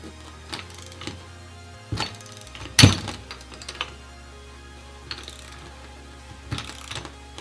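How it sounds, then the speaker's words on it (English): A 22mm oxygen sensor wrench working a pulley nut on a 1JZ engine with aluminum pulleys, giving scattered metallic clanks, ratcheting clicks and one heavy clunk, close up with no talking. "I have a 22mm oxygen sensor wrench, which I'll put on the nut"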